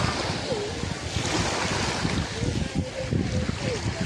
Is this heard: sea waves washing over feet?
yes